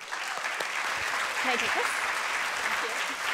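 An audience at a women's leadership conference applauds as a speaker is introduced, a steady wash of clapping across the room with a brief spoken remark over it.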